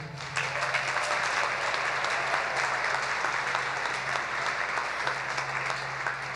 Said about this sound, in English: What about another round of applause for the class of 2022?